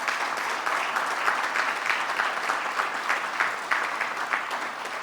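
An audience applauds warmly to welcome Nitin Gadkari at a road safety event. The clapping is dense and continuous, with a crowd sound that swells and settles slightly, and no voices over it.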